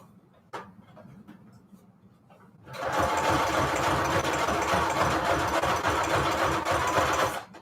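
A sewing machine runs a zigzag stitch through paper strips on tags, beginning after a few faint clicks and then holding a loud, steady mechanical whir that chatters rapidly for several seconds.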